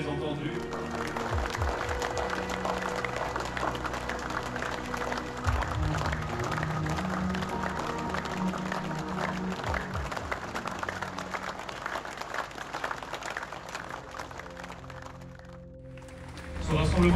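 Sustained applause from a large crowd at a rally for victims, a dense continuous clatter of clapping that carries on for many seconds before tapering off near the end.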